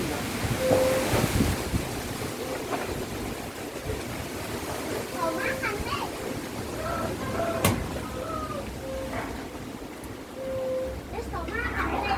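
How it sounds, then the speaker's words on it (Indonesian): Strong gusty wind roars across the microphone outdoors in Kupang, a heavy continuous rush with surf-like swells throughout, while people talk in the background. "Angin kencang nih pemirsa."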